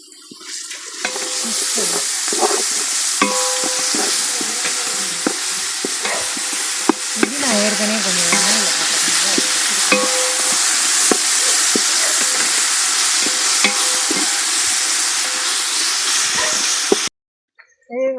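Ginger-garlic paste hits browned onions in a hot pan during outdoor garden cooking, giving a loud continuous sizzle with clattering stirring strokes, while a person talks over it before the sound cuts off near the end.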